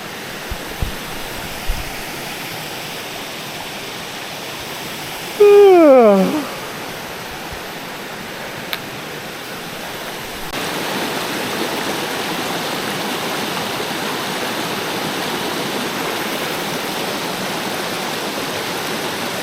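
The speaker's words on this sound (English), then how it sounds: "we've got a nice little waterfall coming up here." A small waterfall in Algonquin Park's backcountry rushes steadily and close by as a broad continuous roar, with a brief high whistle-like sweep partway through and a few faint knocks early on.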